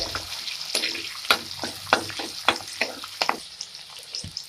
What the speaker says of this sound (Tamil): இப்போ வெங்காயமும் பூண்டு நல்லா வதங்கட்டும்.